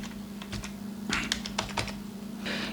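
Keys clatter on a computer keyboard while quantity and rate figures are entered into a purchase invoice in Tally accounting software, a short burst of quick, close taps with a steady low hum underneath.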